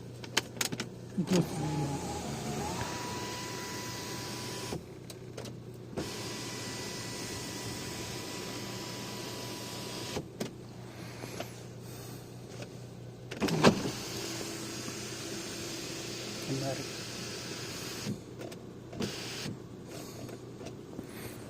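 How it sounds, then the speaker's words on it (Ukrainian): Electric motor of the panoramic sunroof on a 2016 Ford Escape 2.0 EcoBoost 4WD, heard from inside the cabin as a steady hum that starts and stops in stretches, with a few clicks and a sharp knock along the way. "Панорама. Давай запустимо панораму."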